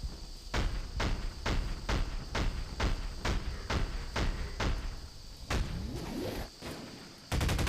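Gunfire in a sci-fi shooter game on the Militia map: a steady run of about a dozen loud, evenly spaced shots, then a pause with a brief sweep of effects before a fast rattling burst at the end.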